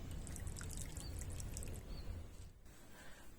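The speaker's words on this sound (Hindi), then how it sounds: "अब इसमें पानी भरेंगे।" Water being poured onto a plate set inside a pot of soil for a lotus seedling makes a steady, soft splashing and trickling that runs continuously, fairly quiet and close, with faint birdsong behind it.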